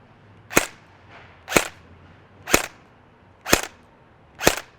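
A KWA Ronin 47 AEG airsoft rifle fires BBs in five sharp, close single shots at an even pace of about one per second, with quiet gaps between them and no voices.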